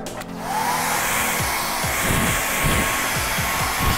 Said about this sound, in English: Take your little uh, hair dryer.